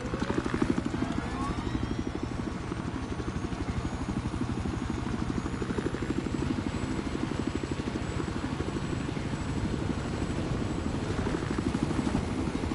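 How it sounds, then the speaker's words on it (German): A helicopter in the video game Battlefield Hardline gives a steady rapid rotor chop over a continuous engine whine that holds at an even level throughout, with no voices over it. "Mit dem Heli kommt man einfach am sichersten da hin."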